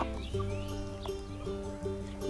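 A young rooster clucks softly in short, repeated calls with a few higher squawks, close and fairly quiet against light background noise.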